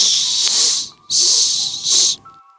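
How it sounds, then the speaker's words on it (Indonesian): Three long, loud snake hisses, breathy and close, separated by short silent gaps, with a faint steady hum in the background and no voices. "Suara desisan ular terus terdengar, membuat Nina semakin ketakutan."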